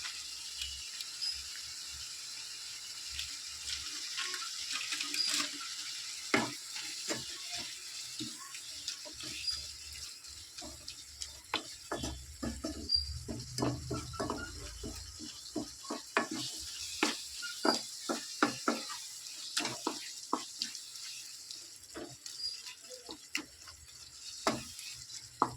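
Masala sizzling and frying in a pan while being stirred, a soft steady fry under repeated scraping and clacking strokes of a spoon, close and fairly quiet.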